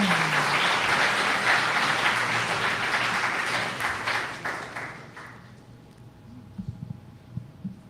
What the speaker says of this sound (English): Let's give Mary a round of applause for this excellent presentation.